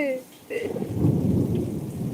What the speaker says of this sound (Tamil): இடி சவுண்டு கேட்குதா செம்ம சவுண்டு